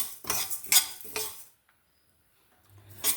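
Black urad dal and sesame seeds dry-roasting and being stirred in a pan for black sesame idli podi: a few scraping, rattling strokes in quick bursts, then a quiet pause before one more stir.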